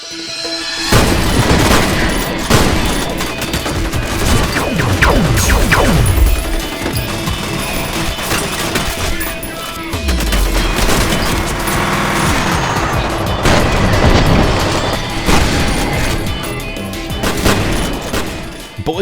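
Constant gunfire from the first-person shooter F.E.A.R., with rapid fusillades, heavy booms, crashes and ricochets piling up densely and loudly throughout, with no speech over it.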